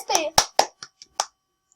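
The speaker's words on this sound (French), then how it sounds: "J'applaudis très fort MSP." A few sharp hand claps, close and distinct, fall in an uneven run and fade quickly. A voice is heard at the start.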